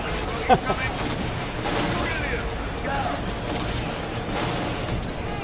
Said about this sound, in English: So here we just saw one of the new weapons, the grenade launcher.